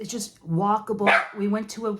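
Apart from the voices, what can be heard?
dogs barking at UPS man outside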